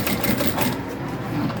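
A sewing machine stitches bias binding onto a crossbody shoulder bag, a close rapid mechanical rattle that runs briefly and then eases off.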